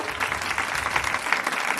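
A church congregation claps throughout, a steady, even patter of applause from many hands.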